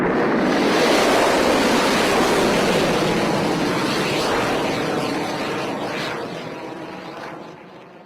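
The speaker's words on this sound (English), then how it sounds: "Liftoff will start in T-minus 10 seconds." Rocket liftoff, a loud broad rumbling roar that holds steady and then slowly fades as it recedes, no talking.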